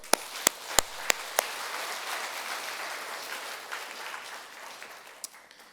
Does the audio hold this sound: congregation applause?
yes